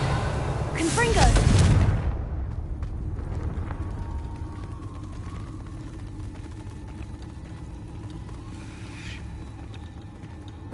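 Fire-spell explosions cast in a Harry Potter video game: a loud, booming blast near the start rolls into a decaying rumble, followed by quieter in-game ambience.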